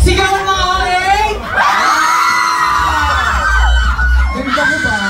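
Crowd of fans screaming at a mall event at SM Megamall, high shrieks and whoops swelling to a loud peak, with a voice shouting over the crowd at the start.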